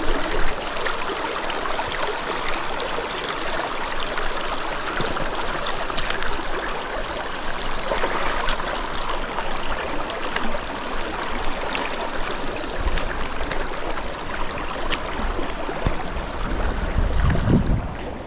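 A river on the Moose River route in northern British Columbia rushes loud and close as hikers wade across using trekking poles, a continuous churning flow with small splashes and no talk.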